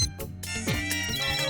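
A mobile phone rings after a lost handset is dialed from another phone, a steady melodic ringtone playing continuously and fairly close for the whole stretch, with no talk over it.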